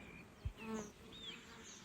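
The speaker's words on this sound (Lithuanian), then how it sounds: "Ir dar rytinis pasisveikinimas su bitutėm. Labas rytas, bitutės. Skraido, dūzgia." Honey bees buzz around hives on a summer morning, a faint droning hum with one close insect passing briefly, quiet and without speech.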